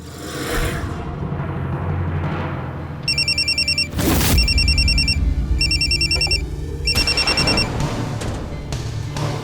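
A telephone rings in an indoor scene from a Hindi crime drama, sounding as repeated bursts of bright electronic trills between about three and seven seconds, heard clearly over a steady low background rumble and a sharp thump near the middle.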